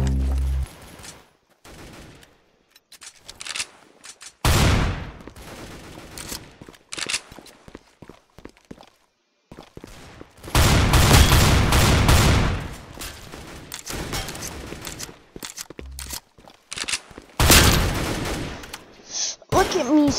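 Shotgun blasts in the Roblox shooter Counter Blox sound in loud, heavy bursts separated by gaps, with footsteps and other gunfire in between and no speech.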